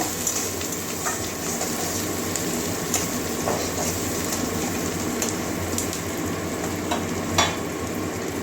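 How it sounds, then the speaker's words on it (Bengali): Chopped onion fries in hot oil with a dense, continuous sizzle and occasional spatula scrapes, steady and close throughout with no talking. "বড় দেখে একটা পেঁয়াজ কুচি করেছি, এটা দিয়ে দিচ্ছি। এবার ভালো করে একটু ভেজে নেব।"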